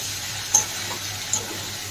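Eggplant frying in plenty of oil gives a steady, soft sizzle under a low hum, with two brief louder pops or stirs breaking through.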